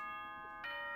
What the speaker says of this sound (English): Doorbell noises.